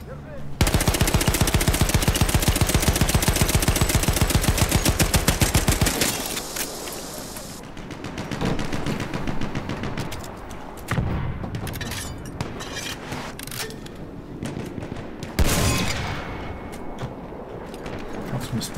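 Sustained machine gun fire in Battlefield 1, a loud rapid unbroken stream at first, then scattered bursts, booms and battle noise with a voice talking over it.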